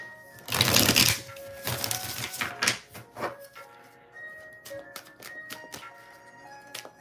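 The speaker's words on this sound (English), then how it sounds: "One more shuffle." A deck of tarot cards is shuffled, opening with a loud, dense riffle, then a string of shorter, scattered flicks and taps that grow sparser and quieter, with faint tonal hum in the background.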